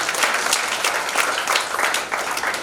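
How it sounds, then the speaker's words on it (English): Audience applause at an annual day event, a dense, steady wash of many hands clapping throughout, loud and fairly close with no break. "Let's give her a round of applause"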